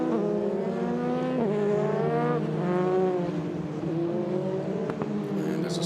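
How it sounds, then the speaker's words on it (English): A line of Formula 3 single-seaters circulates at the Nürburgring behind the safety car, their engines droning steadily at moderate volume with rising and falling pitch as they head toward turn six. "the train of cars then making their way towards turn number 6 now behind the safety car"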